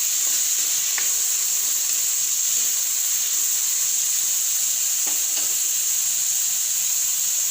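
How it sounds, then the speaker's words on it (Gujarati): Bottle gourd pieces sizzle in hot oil with a steady, even hiss throughout, broken by a couple of faint clicks near the start and end; no one speaks. "દૂધીને આપણે આ રીતે તેલમાં સડવા દેવાની છે"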